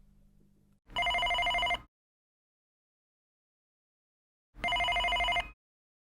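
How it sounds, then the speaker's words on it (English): A telephone rings in two separate loud bursts, each lasting about a second, with a few seconds of silence between them and a faint low murmur just before the first ring. "Norma Folly picked up the phone"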